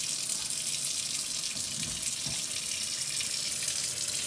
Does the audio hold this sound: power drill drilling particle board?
no